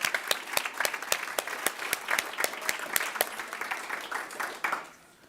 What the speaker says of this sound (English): So we'll do a round of applause for Sue Ellen McGeorge